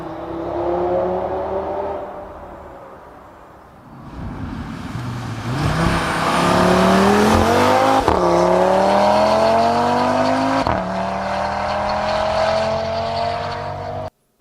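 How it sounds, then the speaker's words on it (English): A stock-exhaust Audi RS3 sedan revs hard and loud nearby, the engine note climbing and holding in long sustained pulls with brief dips between, no voices over it. "Unbelievable, loud, pure sound of our own Audi RS3 sedan."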